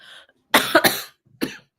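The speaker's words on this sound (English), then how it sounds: "Sorry, once I get talking, I will cough." A person gives several close, sharp coughs in a short cluster. After a brief pause, one more cough follows. No speech is heard.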